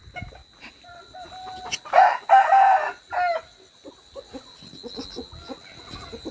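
A young cross-breed rooster, five to eight months old, lets out a loud, close crow in several bursts, followed by scattered soft clucks from hens in a garden coop.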